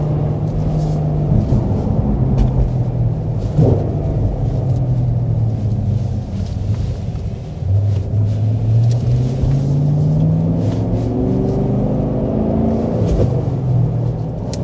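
A 2024 Cadillac CT5-V Blackwing sedan with a nearly 700-horsepower engine and manual transmission rumbles loudly from inside the cabin, its deep engine note rising and falling steadily as the car downshifts.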